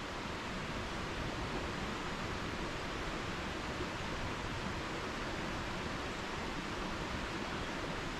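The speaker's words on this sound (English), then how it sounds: "Just the sound of that river running by." A river runs steadily through Northumberland woodland, its broad, even rushing wash holding constant and close for the whole stretch, with no voices or other sounds breaking through.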